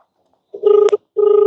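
An outgoing phone call rings twice through the handset, each steady electronic ring tone loud and close, with a short silence between the rings and no voices.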